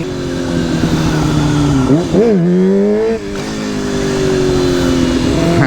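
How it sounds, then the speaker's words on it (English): A motorcycle used as a wheelie bike revs hard and close while popping short wheelies, a loud sustained engine drone that swoops up and down in pitch midway before settling back into a steady roar. "Getting a feel for the wheelie machine here. Popping little short ones, trying to get used to it."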